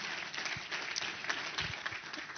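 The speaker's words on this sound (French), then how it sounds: "applaudissez-le" Applause from a conference audience at an inaugural session honouring a prime minister, a short burst of steady, dense clapping from many hands, close and even.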